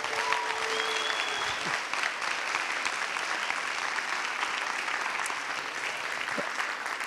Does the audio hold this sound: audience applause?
yes